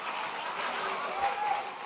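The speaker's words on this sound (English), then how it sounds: "I'm concerned about how loud you clapped for that" Audience clapping at a conference, a short steady patter of applause from a crowd with a voice faintly under it.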